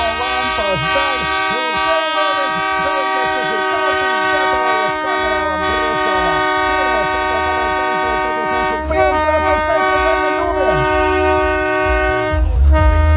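Spectators' horns blare at an Auto Traks 2024 2WD autocross race at Briežkalns, sustained and overlapping for the whole stretch, loud and steady above a low rumble of engines and crowd.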